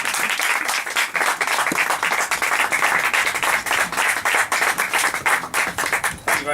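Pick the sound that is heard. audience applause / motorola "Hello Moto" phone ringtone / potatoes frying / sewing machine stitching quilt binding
audience applause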